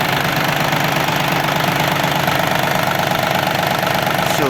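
A Yanmar RS-270 compact Japanese tractor engine idling up close with a steady, rapid knocking pulse and constant mechanical hum, no voices.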